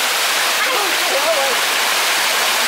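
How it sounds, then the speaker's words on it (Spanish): A waterfall roars loudly and continuously with a dense, unbroken rush of falling water, while a voice briefly surfaces beneath the torrent. "una cascada."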